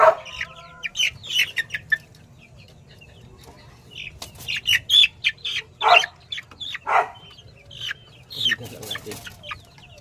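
Chicks and hens clucking and peeping in a farmyard coop, a busy run of short bright calls in irregular bursts over faint background hum, near and fairly loud, with no speech.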